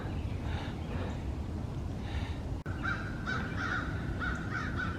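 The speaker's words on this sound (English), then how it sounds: "Hear a lot of crows flying around." Crows caw repeatedly in a wooded park at Iroquois Park on a spring morning, several harsh calls coming in bursts over a steady background of rustling outdoor noise.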